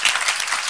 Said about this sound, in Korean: 박수 한 번 더 보내주십시오